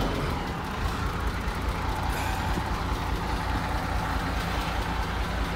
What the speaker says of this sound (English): Boom truck, chains.